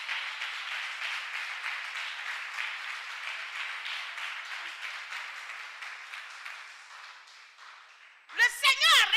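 A church congregation applauds, sustained dense clapping that holds steady and slowly fades over several seconds, followed by a voice speaking loudly at the end.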